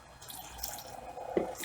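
Water drips and trickles softly while ivy and spider plants in pots are watered indoors, a faint, close patter of small splashes.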